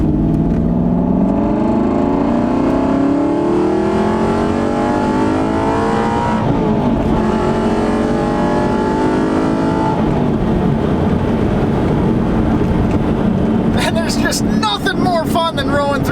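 An Aston Martin V8 Vantage accelerates through the gears, its engine note rising in long sweeps with shift breaks between them. The car sounds loud and close from inside the cabin, with a rough burst near the end.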